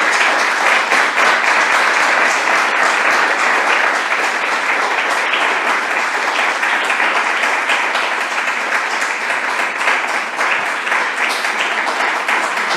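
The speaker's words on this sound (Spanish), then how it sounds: "un nou aplaudiment i ja tanquem l'acte" An audience claps at the close of a lecture on the early history of photography, a dense, steady round of applause that fills the hall with no break.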